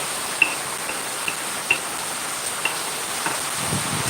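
Light rain falls steadily in the background, with a few sharp drips and ticks landing at irregular moments.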